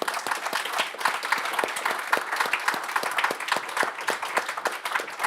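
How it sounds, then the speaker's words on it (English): Indoor audience at an event for Afghan women writers applauds for Masuma, a moderate room of individual claps heard as quick, distinct, uneven hits at close to middle distance. "Really, this is applause for Masuma, I think."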